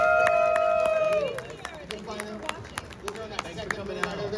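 A convention panel audience claps and cheers, scattered sharp claps and whoops rising under a crowd murmur, with a voice talking over the start before the clapping thins into separate hand claps.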